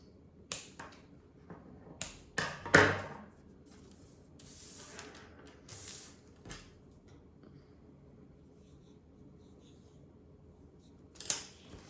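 Sugarpaste strips for a rainbow cake topper are cut by hand, making sparse, crisp snips and small taps close by, with a sharp cluster of cuts near the start and a final click after a long quiet gap.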